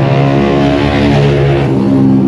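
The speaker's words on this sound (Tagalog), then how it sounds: "Ang ingay ng mga motor." Motorcycle engines rev and drone loudly on a busy street, a dense continuous roar filling the whole stretch with no talk over it.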